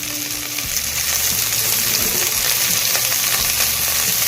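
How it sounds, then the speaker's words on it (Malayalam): Chopped tomatoes fry in a chicken curry pot, giving a constant close sizzle with occasional stirring clinks. "ഇനി നമുക്കിതിലേക്ക് 2 തക്കാളി ചെറുതായി കട്ട് ചെയ്ത് ചേർക്കാം."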